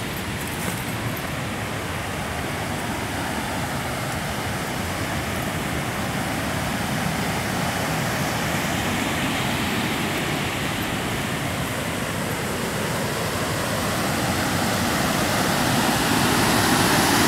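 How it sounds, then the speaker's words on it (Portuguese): A strong waterfall at Cachoeira da Chave in Votorantim pours over rocks with a steady, dense roar. The sound is close and continuous and carries on alone, with no talking. "aqui tem uma queda de água bem forte também"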